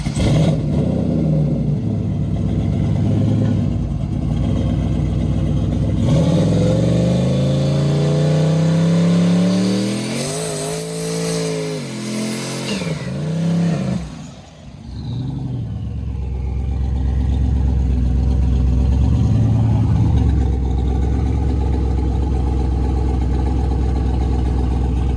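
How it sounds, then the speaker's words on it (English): A drag racing car in a burnout on stock drag tires: steady loud engine revving with a rising, howling pitch sweep in the middle, a brief dip, then a return to a sustained roar. "We'll stop the burnout. He'll check them, do the burnout again"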